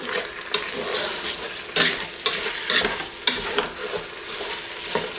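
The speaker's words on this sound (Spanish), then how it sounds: "Sofreímos el arroz." Rice being stirred and sautéed in a pan for arroz con pollo y conejo, a continuous close sizzle with repeated scraping stirs of a utensil against the pan, no talk.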